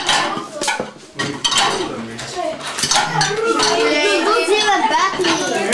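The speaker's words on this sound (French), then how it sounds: "Ils vont mettre ça dans la machine à laver, la vaisselle." Dishes and cutlery clatter and clink as they are loaded into a dishwasher in a busy household, with sharp scattered knocks while children and adults talk throughout.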